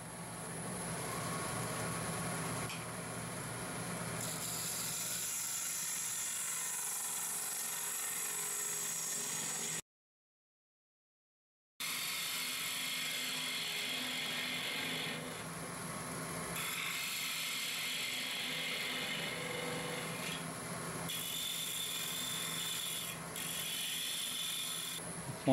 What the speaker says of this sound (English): Mount the lid in the chuck and I start hollowing it out.